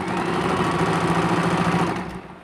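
An electric sewing machine stitches letters onto a cloth handkerchief with a fast, steady, loud mechanical whir that runs evenly for about two seconds and then winds down at the end.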